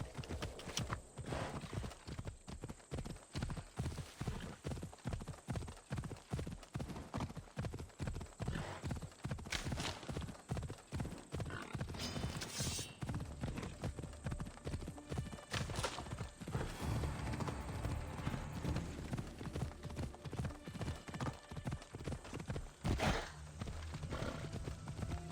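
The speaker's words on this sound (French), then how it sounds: "comment je fais pour appeler mon cheval?" Rapid, regular hoofbeats of a galloping horse in a video game clatter throughout, with a whinny breaking in partway; a voice occasionally murmurs beneath.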